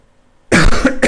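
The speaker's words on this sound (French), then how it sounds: "Là, ça va faire une semaine que je tousse." One person with a week-long cough lets out a close, loud burst of harsh coughing, two rough hacks in quick succession after a moment of quiet.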